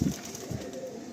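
Malwai pigeons in a loft give low, soft cooing pulses, two brief throaty coos close by against a faint background hum.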